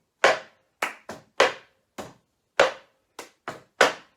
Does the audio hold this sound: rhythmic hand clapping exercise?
yes